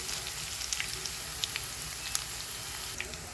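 Soya chunks frying crispy in hot oil, giving a steady close sizzle dotted with small scattered pops and crackles throughout, with no voices.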